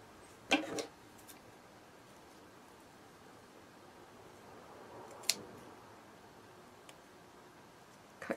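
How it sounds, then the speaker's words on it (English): Scissors trim away felt from a handmade hair clip in a quiet room, with a couple of distinct snips near the start and middle and a few faint ticks between them. "cut your little felt away that you don't want showing from the front"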